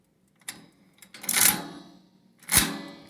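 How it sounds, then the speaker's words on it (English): An antique Recording Devices Co. time recording lock stamps paper, giving a short mechanical clack followed by two louder, close-up clunks of the stamping mechanism about a second apart, with no voices. "you can see how it would stamp it to the paper there"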